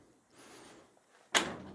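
The driver's door of a 1929 Chrysler is moved on its hinge: a faint metallic creak, then a brief pause and a sharp, loud clunk near the end.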